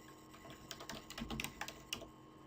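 Typing on a computer keyboard, a quiet, irregular patter of keystrokes clustered in short bursts, with no one speaking.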